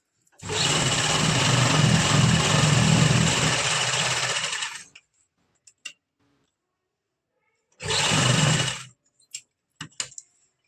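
A sewing machine stitches the back panels of a palazzo in one long steady run of about four seconds. After a pause with a few faint clicks of fabric handling, a second, shorter burst of stitching follows.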